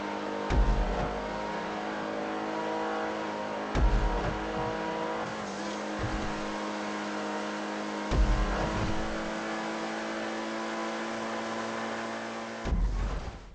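The Dewbauchee Specter sports car drives in GTA Online, its engine a steady drone broken by periodic revving surges and gear shifts. It plays alone and fairly loud, with no talk.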